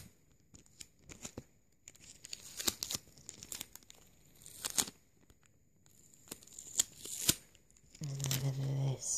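Sticky sellotape handled up close for binaural ASMR, with crackly peeling and tearing bursts and crinkling in irregular clusters separated by quiet gaps, soft but very near, ending in a low hum.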